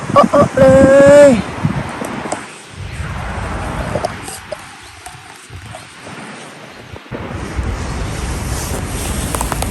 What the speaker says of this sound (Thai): วันนี้ลมแรงหน่อยนะคะ